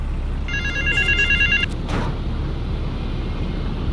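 A telephone rings in Grand Theft Auto III, a short burst of bright electronic trilling tones lasting about a second over a steady low city rumble, followed by a brief whoosh and then continuing ambient hum.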